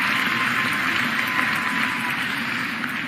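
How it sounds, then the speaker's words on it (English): Sustained audience applause for a state senator during a city address, a dense, even roar of many hands clapping that holds steady for the whole stretch and fades slightly at the end. "Give him a round of applause."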